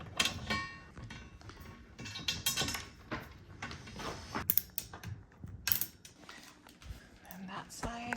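Small screws being driven into the middle beam of a bed frame during assembly, heard as quiet, close ratcheting clicks, creaks and light metallic taps in irregular bursts.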